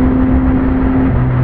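A 2021 Yamaha MT-09 SP motorcycle engine revs under a steady, loud droning hum. The pitch holds level and then steps down near the end, with no voices.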